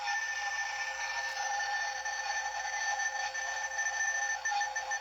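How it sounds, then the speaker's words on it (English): A Ghostbusters PKE meter toy gives off a continuous electronic tone, a steady warbling whine with faint rapid pulsing, close and moderately loud with no voices. "You can see that the beeping will start to pick up in speed."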